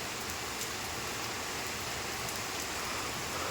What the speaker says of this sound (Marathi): पंढरपूरमध्ये असा पाऊस पडलेला आहे आणि चालूही आहे